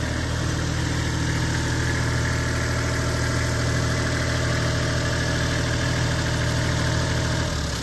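A Kubota L35 tractor's diesel engine runs at a steady idle, loud and close, with a constant low drone and fine vibration that never changes pace. No one speaks.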